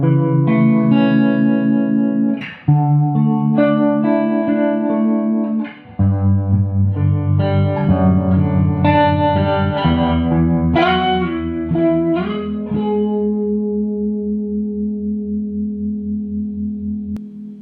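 Electric guitar played through a 1961 Fender Super amp with an overdrive reverb pedal, warm driven chords and single-note runs ringing out with reverb, loud and alone, with a brief break before the final sustained chord fades.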